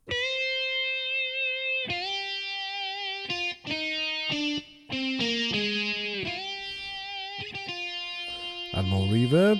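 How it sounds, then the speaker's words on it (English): The "Power Lead Guitar" voice on a Medeli AKX10 keyboard, a distorted, sustained electronic lead tone playing a melodic line of held notes with pitch bends and short gaps, loud and close, no talking. "Power lead guitar."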